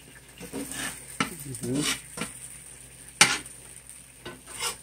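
Swiss cheese and grape jelly pancake cooking in a skillet, a close, steady sizzle with a few sharp scraping and tapping sounds of a utensil against the pan, and brief talk over it.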